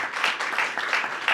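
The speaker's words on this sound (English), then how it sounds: "Give these kids another round of applause," Applause for a group of children at an event with the President, Vice President and Education Secretary Betsy DeVos: dense crowd clapping in overlapping waves, steady and fairly loud, with no voices over it.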